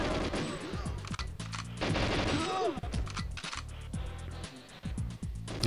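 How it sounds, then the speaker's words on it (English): Enemy gunfire in GoldenEye 007: dense, rapid bursts of shots cracking continuously over game sound, with brief gaps between volleys. "I just want to take care of the guy that's shooting me from behind."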